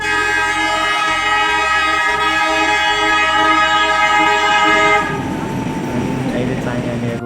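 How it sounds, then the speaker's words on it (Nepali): A long train passing in a forest, with a sustained horn blast held for about five seconds, then the rumble and rattle of the cars rolling by nearby, loud throughout. "तपाईँहरू आवाज सुन्न सक्नुहुन्छ ट्रेनको।"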